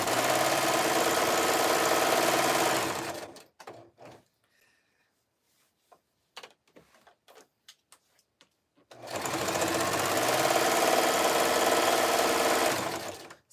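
A sewing machine stitches a fabric jelly roll rag rug in two long, close, steady whirring runs. Between them is a quiet pause with faint handling noises.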